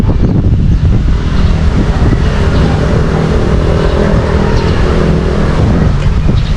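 Strong wind by the sea buffets the microphone in a constant loud roar, with a low rumble underneath and no clear voices.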